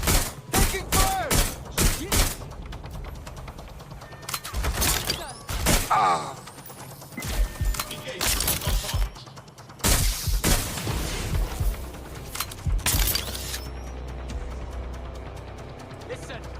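Gunfire in the video game Watch Dogs Legion crackles in rapid, repeated bursts with heavy booming impacts. Voices speak in between the shots.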